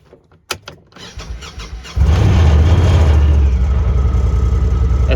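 A Honda Talon side-by-side that had been running rough starts after a few clicks and sharp knocks, then settles into a loud, steady engine drone with a squealing edge.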